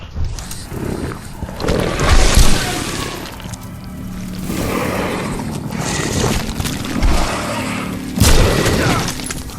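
A mine goes off in The Sinking City video game, a deep booming blast with rumbling debris amid a dense, noisy game soundscape, followed by further heavy thumps.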